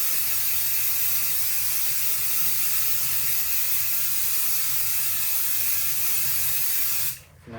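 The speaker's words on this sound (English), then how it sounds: "So I'm going to spray it on," Spray adhesive hissing from a can onto paper in a close, continuous spray that runs steadily for about seven seconds, then cuts off abruptly.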